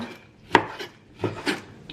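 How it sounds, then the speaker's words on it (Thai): A few sharp knife chops through thawed frozen fish on a cutting board, cutting it into small pieces, irregularly spaced and fairly close, with no talking. "หั่นเป็นชิ้นเล็ก ๆมันเป็นปลาที่แช่แข็งนะ"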